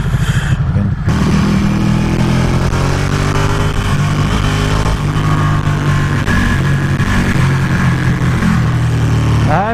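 Motorcycle ridden hard along a twisty road, its engine droning loud and steady throughout with shifting revs and heavy wind rush.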